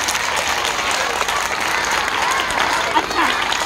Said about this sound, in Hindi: 7th क्लास के बच्चों के लिए प्रशंसा की ताली बजाइए